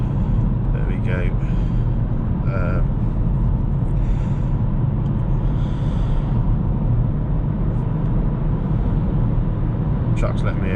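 A 2019 Hyundai Kona cruising on a road in the morning, a steady loud low engine and tyre rumble that continues unbroken throughout, with faint road noise on top.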